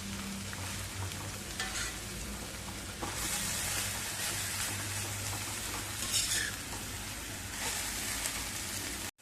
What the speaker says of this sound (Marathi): आता गॅस थोडासा मध्यम करूया आणि भाजी चांगली फोडणीवरती परतवून घेऊया.